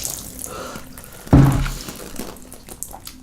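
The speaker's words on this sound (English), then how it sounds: "We're recording drips today." One heavy water drip lands with a loud splash partway through, its ring fading quickly into a low ambient background, with no speech.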